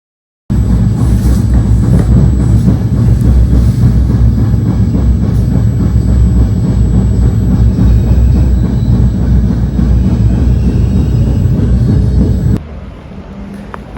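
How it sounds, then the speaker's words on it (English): A loud, steady rumble of an Italian regional train arriving at a station in Basilicata, with a rhythmic rattle and a high whine, continuing evenly for several seconds before dropping off abruptly. "my train towards Reggio Calabria is showing up"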